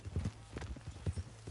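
A horse in the video game Red Dead sets off at a walk, its hooves giving a few close, distinct clip-clops in an uneven rhythm, with faint background ambience.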